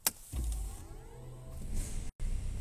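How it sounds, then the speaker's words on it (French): A BMW 530e car starting up, a soft electric whir and hum after a click, quiet and close with no engine roar. "maintenant on va démarrer la voiture"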